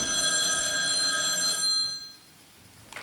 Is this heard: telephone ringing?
yes